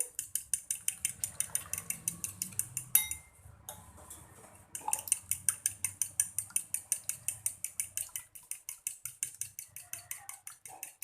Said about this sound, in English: So again, we'll whisk it neatly.